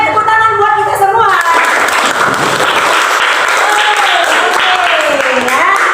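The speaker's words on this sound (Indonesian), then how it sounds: "tepuk tangan buat kita semua" Applause for the groups in a classroom session: a voice speaks over the first second, then a room full of people claps in a dense, lively burst, with voices continuing on top of the clapping.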